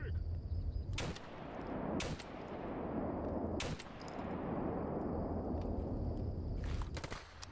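Sniper rifle shots crack out in S.T.A.L.K.E.R. GAMMA, four or five sharp, loud reports spaced a second or more apart over a constant rumbling in-game ambience.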